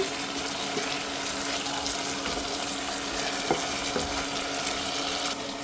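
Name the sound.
beef sautéing in a pan without spices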